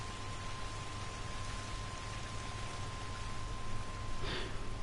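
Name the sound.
heavy rain in Red Dead Redemption 2 video game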